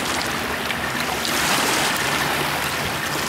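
A 650-horsepower boat engine screams past on open water, a loud, steady rush of engine roar mixed with hissing spray and wake for a few seconds, with no talking.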